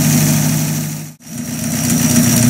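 A Buick Roadmaster's engine idles steadily and loudly after a throttle blip, with one brief dip in level midway before the even running returns.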